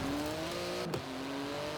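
A Porsche 911 GT2 with a twin-turbo 3.8-litre flat-six of 700 horsepower drones steadily in Forza Horizon 4, a sustained engine tone holding pitch briefly before a quick shift.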